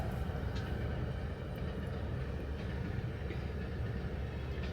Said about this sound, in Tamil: ட்ரெயின் வரப்போது அதான் நாங்கள் அந்த சிக்னலில் நிற்கிறோம் இப்போ